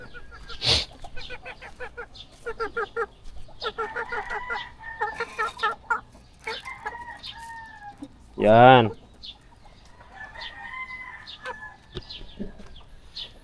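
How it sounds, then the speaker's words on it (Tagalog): Chickens cluck in repeated short bursts close by, with scattered calls and one louder squawk partway through, while a person speaks briefly. "So kailangan natin pakainin yung mga manok mga katawan"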